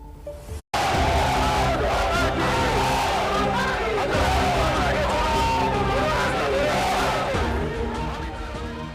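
A large crowd of protesting farmers shouts and chants together in a loud, continuous roar of voices with rising cries and whoops, after a brief cut near the start.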